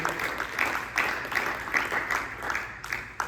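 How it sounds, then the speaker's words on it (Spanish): Church congregation applauding during a bilingual Spanish-English sermon, a steady wash of many hands clapping at moderate distance, fairly quiet and continuous with no talk. "dale un aplauso a nuestro Dios"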